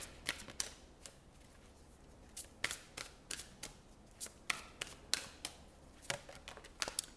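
A deck of cards is cut and shuffled close by in a quiet room, giving a series of sharp riffling snaps and soft flicks in an uneven rhythm, with no voices.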